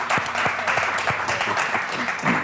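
An audience at a Boston restaurant-history talk about Eastern Standard bursts into dense, sustained applause that fills the whole moment, with no voices over it.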